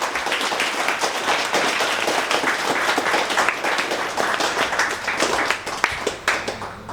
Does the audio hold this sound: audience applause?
yes